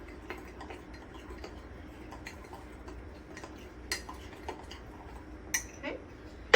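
Apple pie cake batter being stirred in a mug, with a spoon giving soft, steady scraping and light clinks against the sides, plus a few sharper ticks near the end, faint and close.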